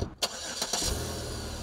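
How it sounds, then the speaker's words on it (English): A car engine cranks briefly and catches, settling into a steady running hum, close and fairly loud with no voices. "she gets ready for work, starts her car"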